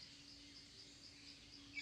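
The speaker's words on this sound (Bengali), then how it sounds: "ঝিঝি পোকার ডাক," Crickets chirp in a forest at a Dooars homestay in North Bengal, a faint steady high-pitched insect drone that holds evenly throughout with no voices.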